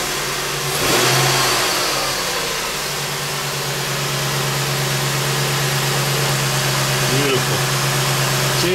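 A Ford F150 4.6L V8 engine runs steadily with a rev rising around the first second, then settling into a constant mid-pitched hum, loud and close.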